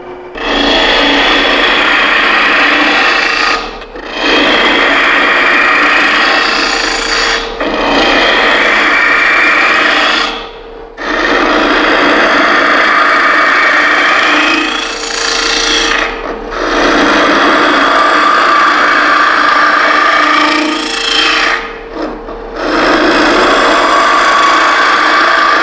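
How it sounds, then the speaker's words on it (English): A wooden vessel spins on a lathe while a Stuart Mortimer gouge cuts inside it, giving a steady, loud rasping, scraping hiss. The cutting comes in long passes broken by short pauses, with no talk. "one advantage of the Stuart Mortimer Gouge is the fact that it does help exit shavings up the flute and out of the vessel"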